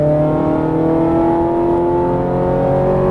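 Ferrari 430 Scuderia on a track, engine howling steadily as it accelerates hard, a loud, continuous rising roar up close with no pauses.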